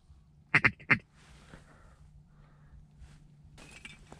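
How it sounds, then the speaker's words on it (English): Ducks coming in over a duck and goose hunt give a quick burst of three or four loud, nearby quacks. Quieter rustling and a few faint, distant calls follow. "it was a great group of ducks to watch work and come in"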